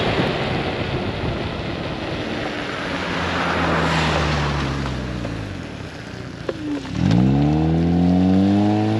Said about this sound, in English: Car nearly ran me off the road.